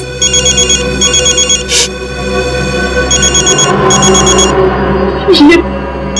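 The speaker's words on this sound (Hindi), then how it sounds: "ये तो उसी के डब्बे का फोन है।" A telephone rings loudly and close by in repeated trilling bursts, with a short pause between rings, over a low hum. A brief voice is heard near the end.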